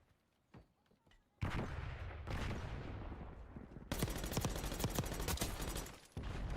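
Gunfire in the Call of Duty Black Ops 6 video game: sharp single shots, then dense rapid bursts of automatic fire, loud and close, with faint voices.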